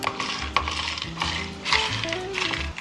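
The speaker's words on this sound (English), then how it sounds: "I'm going to go ahead and pour some ice into them" Ice cubes clatter and clink into cups of tea, a few sharp rattling hits over a faint background hum, close and moderately loud.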